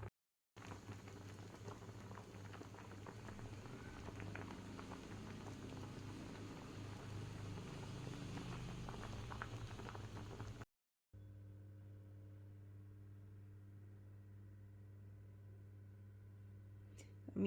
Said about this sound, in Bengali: এই যে দেখতে পাচ্ছ, এটা ফুটছে টকবক করে, প্রায় এটা হয়ে এসেছে।